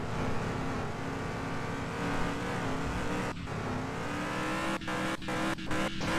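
A car in a video game ramp test drives past with a steady, loud engine drone and tire noise, fairly close, with a few brief dips and clicks near the end and no speech.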